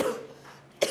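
A woman coughs twice, a drawn-out cough followed by a sharp, louder burst close to the listener, in a quiet room.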